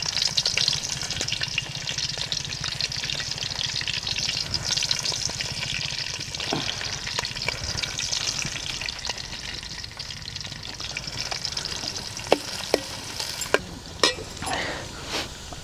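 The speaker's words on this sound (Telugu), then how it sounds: "ఇప్పుడు కట్ చేసుకున్న ఉల్లి, పచ్చిమిర్చి వేసుకోవాలి." Chopped onion and green chili frying in hot oil in a pan for a rohu fish curry, a steady close sizzle with stirring and a few sharp clicks of a utensil near the end.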